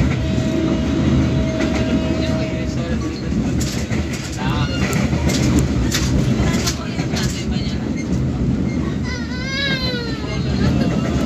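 The Putri Deli passenger train rolls on rails with a loud, steady rumble and rhythmic clatter from the cars, plus a few brief squeals near the end, heard from inside the carriage.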